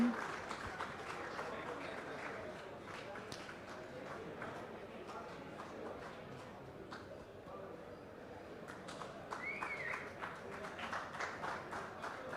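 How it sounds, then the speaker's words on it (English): Audience applause at a golf prize presentation for the Bengaluru Open professional tournament, a steady wash of clapping that runs through the clip under a lively crowd. "Can we have a huge round of applause for Brajesh Kumar?"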